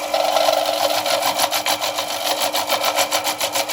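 A woodturning gouge with a 45-degree grind scrapes and chatters against a spinning wooden bowl during hollowing, giving a rhythmic rasping rub that pulses with each rotation, close and fairly loud.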